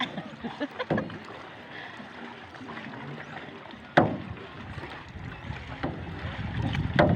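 Paddle strokes splash and swish through water at a steady pace, with wind buffeting the microphone throughout.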